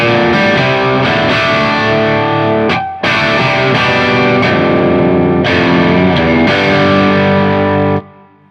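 A Gibson electric guitar plays through heavy distortion, with thick sustained chords that ring loud and alone, broken by brief stops before new strums and a decaying final chord.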